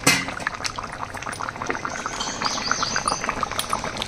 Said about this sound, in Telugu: చింతపండు పిసికి పోసుకోవాలన్నమాట.